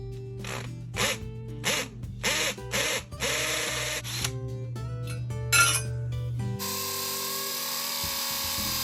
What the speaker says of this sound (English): Drill a 1/2 inch hole